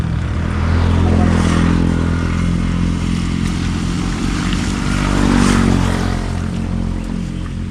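Agricultural spraying drone flying over a rice paddy: a steady, loud droning buzz of propellers with a rough mechanical edge, swelling slightly as it passes nearby, no talk.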